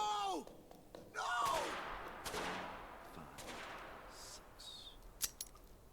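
Gunfire in the animated Lackadaisy pilot: several sharp shots and a short burst crack out between whooshes and rising tones, with fainter impacts trailing off.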